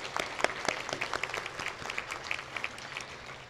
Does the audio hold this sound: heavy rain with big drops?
no